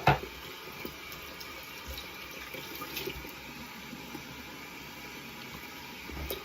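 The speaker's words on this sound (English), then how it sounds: "it's time to rinse off. Rinse the razor." A tap runs steadily as a King C Gillette razor is rinsed at a sink, a constant close hiss of flowing water with a sharp splash at the start and again near the end.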